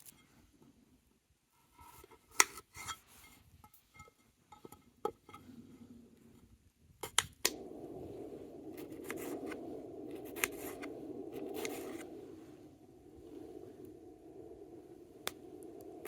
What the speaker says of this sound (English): start cutting this onion.